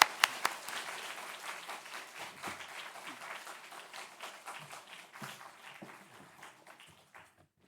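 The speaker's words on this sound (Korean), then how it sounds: "이 시간 우리 목사님 나오셔서 힘있게 말씀 전하시도록 박수로 우리 함께 격려하시겠습니다." Church congregation applauding during a Sunday afternoon service to welcome the pastor, a burst of clapping that starts strong with a few sharp claps and gradually thins and fades over several seconds.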